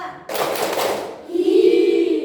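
A group of children in a classroom claps together in a quick, dense burst of hand claps that stops abruptly, followed by a steady voice-like hum.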